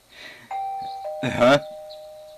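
A doorbell chime rings twice in the Persona 4 Golden video game, two sustained tones sounding out clearly while a voice speaks before and over them.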